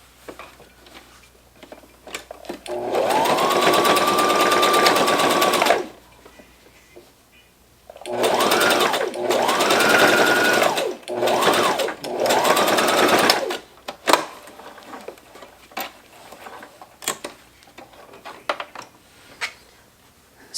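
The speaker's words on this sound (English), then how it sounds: "So we're going to go ahead and sew this side down and then do the other side." A sewing machine stitching a fabric face mask runs in several close, loud bursts: one long run, a pause, then a few shorter runs of whirring needle chatter, followed by quieter handling clicks.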